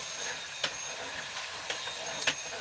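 A vacuum cleaner runs inside an RV with a steady, even airy whoosh and a few faint clicks, and nobody speaks.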